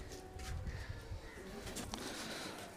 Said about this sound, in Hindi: हमने सारे कबूतर निकाल दिए बाहर